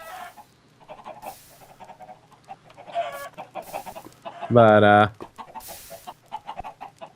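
Minecraft chickens cluck in short bursts amid game sounds, with a louder sustained squawk near the end, while people talk over it.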